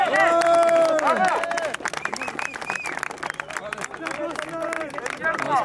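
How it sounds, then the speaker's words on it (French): A crowd claps and cheers for driver Jérôme's 10th place at a drift event at Croix-en-Ternois. The clapping is steady and moderately loud under overlapping voices and talk. "on peut quand même applaudir Jérôme pour sa 10e place"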